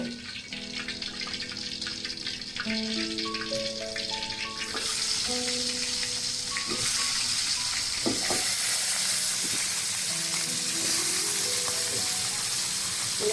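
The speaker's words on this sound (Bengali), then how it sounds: "প্রথমে তেল দিয়ে দিচ্ছি করতাম মানে কাঁকড়াগুলো বেজে নিব" Crabs sizzle and fry in hot oil in a village kitchen pan, a steady loud crackling hiss with stirring and scraping, accompanied by tonal background music.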